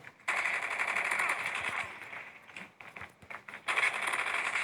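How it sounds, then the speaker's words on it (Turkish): Rapid bursts of automatic gunfire from the HOLGER 26 heavy weapon in Call of Duty Mobile crackle in sustained volleys, with short gaps between them before firing resumes. "Şurada bir silah sesi var abi."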